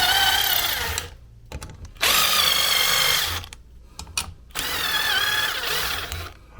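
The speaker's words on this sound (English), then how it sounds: "I've got a centering, what we call a centering drill bit" A centering drill bit boring through oak, in three long sustained whirring bursts separated by short pauses, loud and close with no talking.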